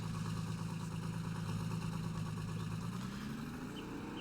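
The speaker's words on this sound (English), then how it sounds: "an 8020. It's an R.D. Allen mod. And it's the John Deere 8020" John Deere 8020 tractor engine idling in the Farming Simulator video game, a steady low rumble held at a constant level, with the pitch shifting slightly near the end.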